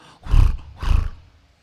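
Two short, deep roars from a lion cub come close together, each rising and fading within half a second, followed by quiet.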